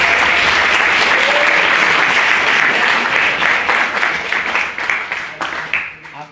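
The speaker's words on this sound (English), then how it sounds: "Please give him a big round of applause." Audience applause fills a debate hall as a speaker is welcomed, sustained dense clapping from a large crowd that holds steady before tapering off toward the end.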